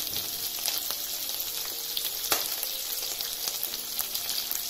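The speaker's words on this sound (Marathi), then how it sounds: "आपण मध्यम किंवा हाय फ्लेमवर असंच परतून घेऊया।" Paneer cubes stir-fried in a pan over medium-high flame for chilli paneer, giving a steady, loud, close sizzle with faint scraping and clinks throughout, no voices.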